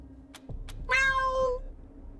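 A cat meows in the Wasteland 3 video game, one drawn-out, clear meow close up after a couple of faint clicks, with no talk over it.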